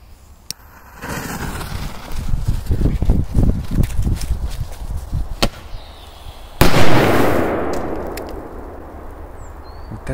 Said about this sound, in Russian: Это фейерверк получился.